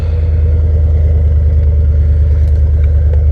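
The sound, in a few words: engine burble of Ford Capri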